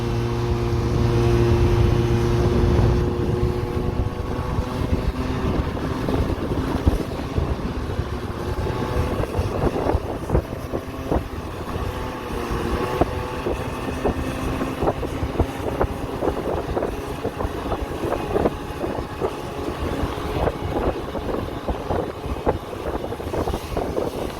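A Honda Dio scooter accelerates hard, its small two-stroke engine droning and rising in pitch through a long run, with wind buffeting the microphone throughout and no voices.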